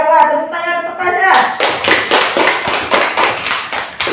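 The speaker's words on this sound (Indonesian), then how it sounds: "Coba tepuk tangan untuk Pasha." Classroom applause from a group of pupils, a burst of many hands clapping that starts after a spoken prompt and carries on steadily, loud and close, for several seconds.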